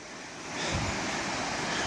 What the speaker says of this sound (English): River running right through there.